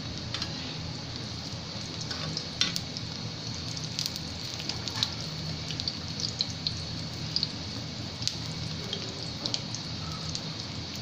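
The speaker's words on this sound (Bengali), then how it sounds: "এই ডিমগুলোকে আমি বাদামি কালার করে ভেজে নেব।" Fish roe frying in hot oil until browned gives a steady, moderately quiet sizzle dotted with small crackling pops throughout, with no talking.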